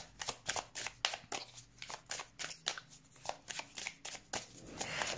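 Tarot cards being shuffled by hand in a steady series of crisp riffling bursts, close and fairly quiet, with no talking.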